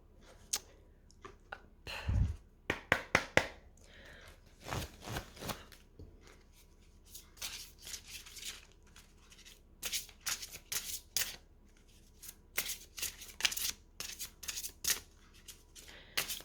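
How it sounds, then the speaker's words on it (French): Oracle cards shuffled by hand ahead of a reading, heard as close, dry riffling bursts that come and go in short irregular flurries with quiet gaps between, no voices over them. "Alors, si vous voulez, on va faire un petit tirage."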